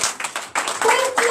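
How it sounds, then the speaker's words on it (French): A church congregation at a night deliverance service claps in bursts, with a voice speaking and calling out over the claps. "Donnez l'acclamation à Jésus."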